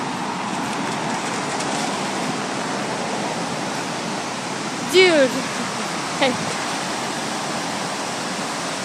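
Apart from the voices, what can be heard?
rushing floodwater in an overflowing creek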